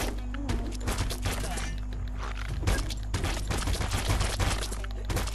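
Enemy gunfire from tribal foes in the Biomutant video game crackles in dense bursts, with repeated sharp shots and booms layered over constant game noise.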